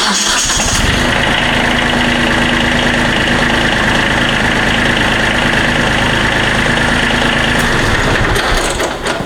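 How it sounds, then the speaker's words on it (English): Kubota compact tractor engine running at a steady idle after starting, a loud continuous mechanical drone that holds evenly for several seconds before easing off at the end, with no talking. "So we're gonna turn the machine on and crank the wheels over so we have access to that drain plug."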